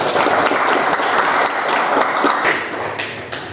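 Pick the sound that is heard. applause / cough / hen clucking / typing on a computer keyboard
applause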